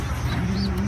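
A silver red bar pigeon in a breeder cage gives a short, low, throaty coo up close, heard alone against a steady background hum.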